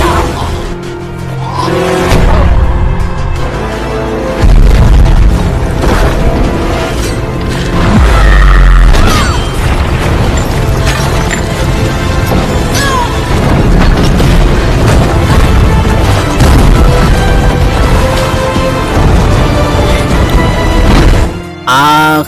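An explosion in an action film booms loudly amid a continuous, dense wall of crashing, rumbling and whooshing effects. The impacts stay heavy and sustained from start to finish.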